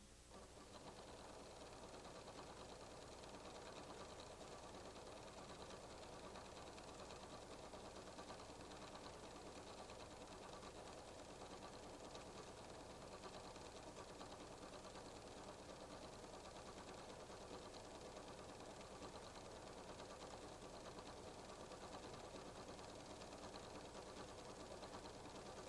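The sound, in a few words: PFAFF creative 1475 CD sewing machine sewing cross stitches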